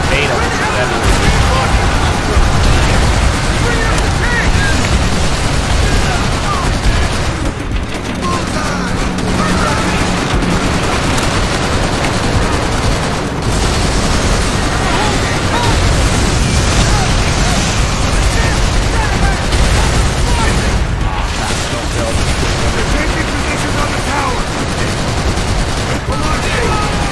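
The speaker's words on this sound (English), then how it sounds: "This cannon, like, would literally be shredding that guard tower." Rapid cannon fire from a video game turret pounds a wooden guard tower, a dense, loud, continuous barrage of booms and bursts running throughout with someone talking over it.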